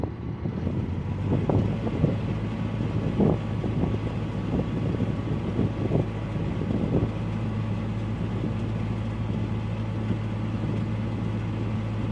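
A narrowboat engine chugs steadily at close range, holding a low, even drone, while wind brushes the microphone.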